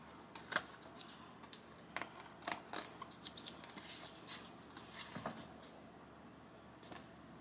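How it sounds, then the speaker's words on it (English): Scissors trimming the top and bottom of folded paper for junk journal signature pages, a series of close, crisp snips and light paper rustles in uneven bursts, quiet and with no talk. "we're just going to fold it and trim the top and the bottom"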